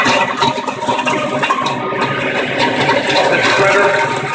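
On an FS-30 PLUS cold juicing press, a 3-horsepower motor drives a shredder blade with a steady, loud mechanical drone and slight rattle, and a voice seems to talk over it.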